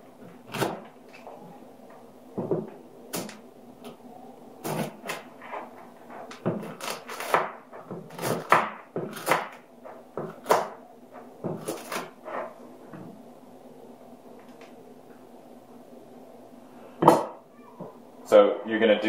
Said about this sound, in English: Take a spoon, scoop out the insides